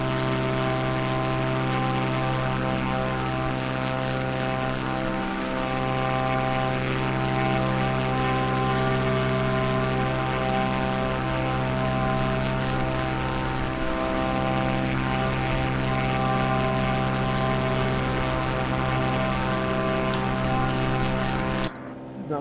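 A propeller airplane flying in a video game hums with a steady, loud, tonal drone that holds unbroken until it cuts off abruptly at the very end.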